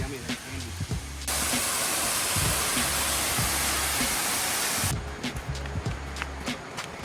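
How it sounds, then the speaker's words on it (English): Rushing waterfall near Uvita, Costa Rica, a broad steady roar of falling water that swells loud in the middle, with footsteps and rustling on the approach before and after. "We're walking down to the waterfall"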